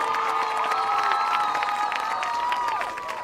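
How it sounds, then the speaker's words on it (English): A crowd applauds and cheers at a high school football game during halftime, a continuous broad wash of clapping and shouting voices with sustained tones running through it, heard from a distance. "Let's give them a big round of applause."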